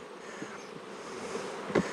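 Honey bees buzzing on a hive frame held above the queen excluder, a soft steady drone of many insects close by with a few louder passes near the end, and no talk.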